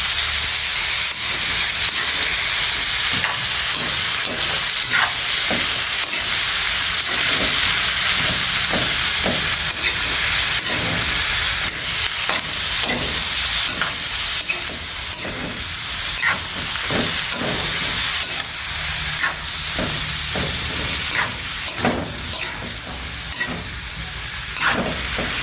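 Yardlong beans sizzling in a hot frying pan, a loud continuous hiss with frequent scrapes and clicks of stirring, close up and steady throughout.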